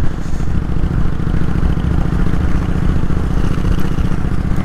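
Steady low engine rumble of a motorcycle cruising through Bremen, continuous and loud with a rough mechanical texture and wind noise, no talking.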